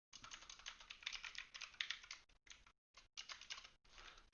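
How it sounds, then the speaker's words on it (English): Quiet, quick tapping of keys on a computer keyboard, a steady run of clicks broken by a few brief pauses, close and soft with no talking. "Alright, so let's type it in."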